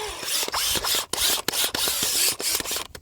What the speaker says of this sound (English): many of you guys use your drills to pre-prep your beds?